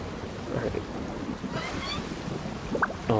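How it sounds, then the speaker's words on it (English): Ocean waves surge and wash in a Genshin Impact game scene, a steady broadband rush with a brighter swell midway, under faint game effects and chimes. "Oh, there's like waves now."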